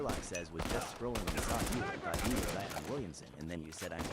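Dense, loud gunfire in a shooter video game, fast overlapping shots packed throughout, with voices talking over the shooting.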